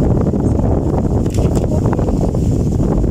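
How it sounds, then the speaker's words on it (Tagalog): Loud, gusting wind buffets the microphone, producing a dense, rumbling rush that never lets up. "Ang lakas ng hangin."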